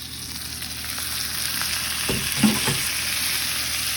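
Sofrito for Catalan fideuà frying in a pan, a constant close hiss of sizzling oil with a couple of soft stirring knocks partway through, no speech.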